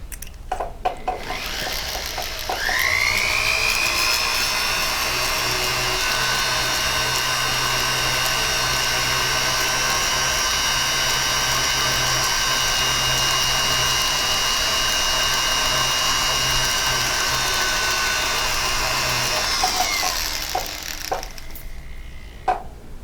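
A rotary polishing wheel buffs scratches out of a stamped metal blank, running as a steady whirring motor drone with a rising start and winding down at the end, close and loud with no talk.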